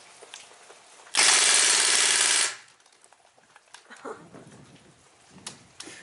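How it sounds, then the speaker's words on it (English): A Crosman R1 BB gun fires on full auto at a pond in the rain, a loud rapid buzzing burst lasting over a second, followed by scattered faint ticks and patter. "gonna click the safety to full auto. And here we go."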